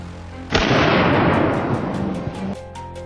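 Loud, sustained blast roars up suddenly and rumbles on for about two seconds during a wild boar hunt from the air, a broad explosive rush that slowly fades before quieter background returns.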